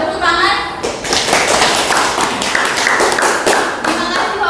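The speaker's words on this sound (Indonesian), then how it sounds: "Tepuk tangan." A classroom group claps hands in applause during a micro-teaching lesson, the dense, steady clapping rising after a brief quieter moment and carrying on for several seconds, with some voices mixed in.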